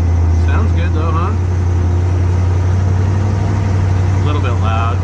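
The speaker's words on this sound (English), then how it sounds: "A little bit loud, it's a big exhaust leak" A Ford Mustang engine idling with a big exhaust leak, a loud steady low rumble throughout with people talking over it in bursts.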